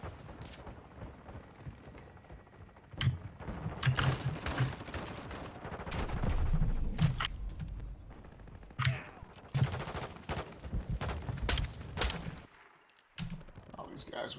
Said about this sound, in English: All these guys with snipers.